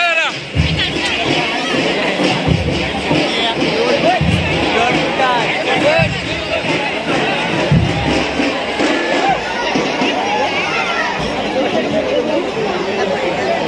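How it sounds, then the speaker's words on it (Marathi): A large, dense crowd gathered in Chiplun to see the racing bull Bakasur, with steady overlapping chatter and murmuring voices filling the air continuously, occasional louder shouts rising above the hubbub. "एवढ्या मोठ्या प्रमाणावरती बकासूराला बघण्यासाठी गर्दी केली."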